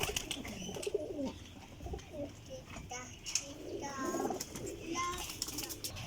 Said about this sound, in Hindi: कबूतरां च पट्ठा है, बच्चा है माशाल्लाह जी